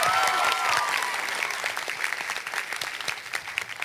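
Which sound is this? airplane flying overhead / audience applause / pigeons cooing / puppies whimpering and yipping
audience applause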